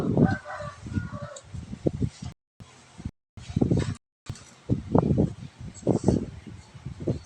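Chickens clucking near a rural Thai home, with a rooster's crow among short bursts of hen calls, heard close alongside people talking and brief dropouts of silence.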